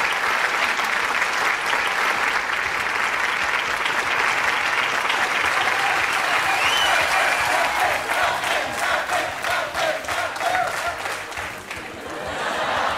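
Studio audience at a televised show breaking into loud, sustained applause with some cheering, the clapping dense and continuous before tapering near the end.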